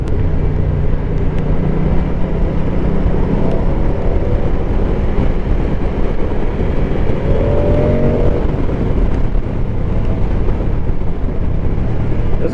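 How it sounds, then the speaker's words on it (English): A 2024 Moto Guzzi Stelvio motorcycle's exhaust on the move along a road, a steady, loud, grunty low rumble that holds throughout with continuous wind and road noise. "it's a good grunty exhaust sound"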